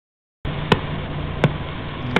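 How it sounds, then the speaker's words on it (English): A data sonification of a pulsar's repeating pulses plays as a steady noisy hiss, broken by sharp clicks at even intervals of roughly three quarters of a second. "some smart human beings out there were able to apply some data sonification to the repeating pulses of the pulsar, and you get something that sounds like this"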